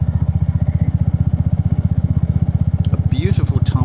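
A Royal Enfield Hunter motorcycle on a cross-country ride past deep hedges, its engine thumping in a steady, close, loud rhythm throughout, with brief faint chirps near the end.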